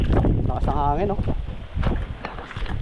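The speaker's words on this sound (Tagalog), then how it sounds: "hangin oh." Wind buffets the microphone on a fishing boat at sea, rough gusty rumble under someone talking briefly.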